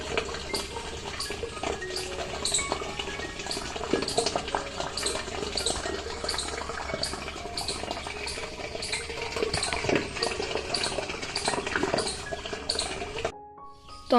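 Water gushes in from a borewell on a Gujarati village farm in the monsoon season, a steady, fairly close rushing and splashing that runs continuously, then cuts out abruptly near the end.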